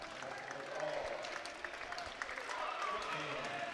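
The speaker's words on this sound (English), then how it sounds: "You can even see Springford clapping there" Spring-Ford fans clap at a high school wrestling match against Dallastown, a steady patter of applause in a gym that runs through the whole moment beneath a commentator's continuous talk.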